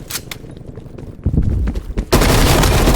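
Loud, close bursts of automatic gunfire in the Call of Duty Black Ops Cold War beta, with scattered shots early on and then a heavy, sustained volley to the end.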